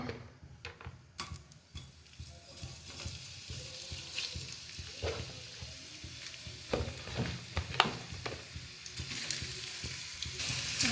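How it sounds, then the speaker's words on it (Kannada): Bitter gourd roasts in hot oil in a pan, crackling and sizzling steadily while a utensil stirs and clicks against the pan in irregular taps, with no voices. "ಚೆನ್ನಾಗಿ ರೋಸ್ಟ್ ಆಗಲಿ ಚೆನ್ನಾಗಿ ರೋಸ್ಟ್ ಆದಮೇಲೆ ತೋರಿಸ್ತೀನಿ"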